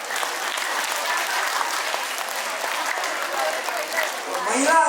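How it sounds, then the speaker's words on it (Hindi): Audience applause at a Women's Day event, a continuous, even patter of many hands clapping, moderately loud and sustained, with a few faint voices rising at the very end. "दूसरा हाथ भी ऊपर उठा लें और दोनों को आपस में तालियों के रूप में बजाएं।"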